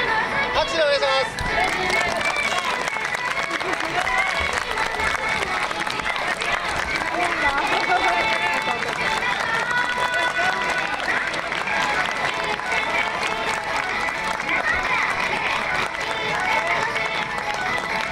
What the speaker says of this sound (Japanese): 拍手でお願いします。